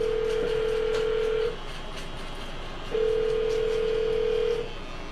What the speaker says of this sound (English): I'm going to dial her phone right now.